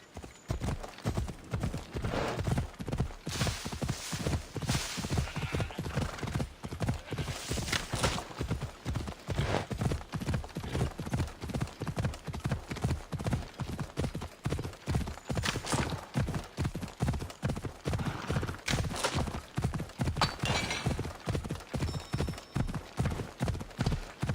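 Horse Phobos gallops in Assassin's Creed Odyssey: a steady, rapid clip-clop of hooves, loud and close, running without pause, with a brief whinny and scattered game sounds mixed in.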